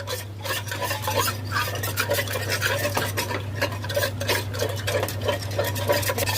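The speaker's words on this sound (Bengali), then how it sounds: "ডিমের গোলায় সামান্য পরিমাণ লবণ দিয়ে দেব ভালো করে নেড়ে নেব" Beaten egg with a pinch of salt is whisked briskly in a bowl, a rapid rhythmic clicking and scraping that continues steadily over a low constant hum, close up with no voices.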